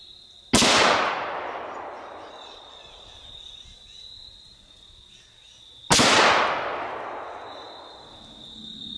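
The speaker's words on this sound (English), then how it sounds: "2 shots at 50 yards, first with the FUSION and then the FUSION MSR" Two loud rifle shots of .223 Federal Fusion and Fusion MSR ammunition fired at 50 yards into gel, each a sharp crack with a long fading echo, spaced about five seconds apart over an outdoor insect buzz.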